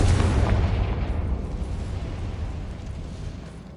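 The Confringo fire spell from Hogwarts Legacy detonates in a loud close blast, its booming roar decaying steadily into a fading rumble over several seconds.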